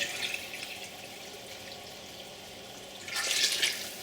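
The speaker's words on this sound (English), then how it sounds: "we're just going to slowly start bringing this water level up, because like I said, we're going to fill this pot up" Water runs steadily into a large pot being filled for Korean seolleongtang bone broth, a soft continuous rush that swells louder and brighter near the end.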